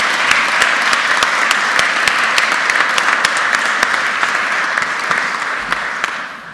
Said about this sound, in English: a big rousing round of applause